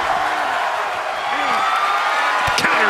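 A crowd cheers with sustained, steady roaring noise in the WWE 2K wrestling video game, while a commentator talks over it.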